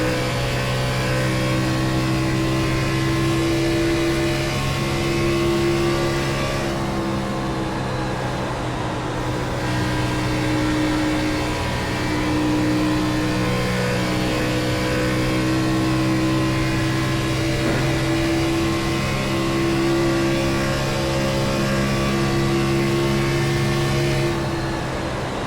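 A NASCAR O'Reilly Series race car in iRacing at Kansas drones loudly and continuously, its engine pitch rising and falling as the throttle is worked over a long stretch with no talking.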